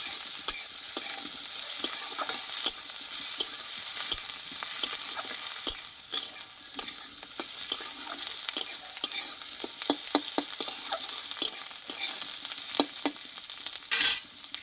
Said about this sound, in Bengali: এইখানে দেবো আমি থেতো করা আদা আর দেবো থেতো করা রসুন কয়েক কোয়া এইটাই ভালো করে ভেজে নেবো আমি